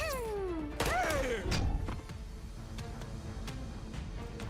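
A bomb attack lands in Girls' Frontline 2: Exilium, with falling whistling tones sweeping downward into a heavy thudding impact, followed by scattered lighter hits and crackle over a steady game backdrop.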